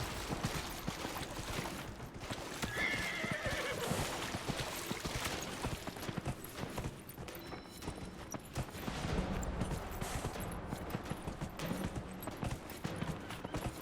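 Horse galloping in Dragon Age: Inquisition, a steady muffled clip-clop of hooves running on under wind and game ambience, fairly quiet, with a short whinny-like call early on.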